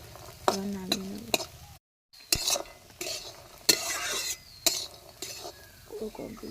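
Food frying in a pan at home being stirred, with scraping utensil strokes, clinks against the pan and a soft sizzle underneath, in irregular bursts over about six seconds.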